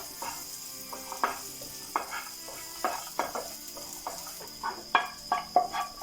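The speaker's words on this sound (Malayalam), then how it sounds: "അണ്ടിപ്പരിപ്പ് നന്നായി ഫ്രൈ ആയി കഴിഞ്ഞാൽ നമുക്കിതിലേക്ക് ഉണക്കമുന്തിരി ഇട്ട് കൊടുക്കാം കേട്ടോ" Cashews and raisins frying in ghee in a pan for payasam, a steady faint sizzle broken by irregular spoon stirs and light scrapes and clinks, close by, with no talking.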